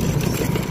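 An old motorbike engine runs steadily and close by on a ride through rice fields near a village, a dense low rumble holding even without a break for under a second, with no talking.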